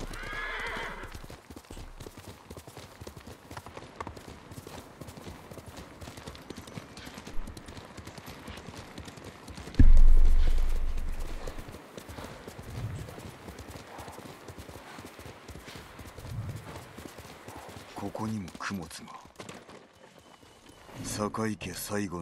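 Horse galloping in the video game Ghost of Tsushima, with steady clip-clop hoofbeats and a whinny, a loud thump near the middle, and game ambience and voices mixed in throughout.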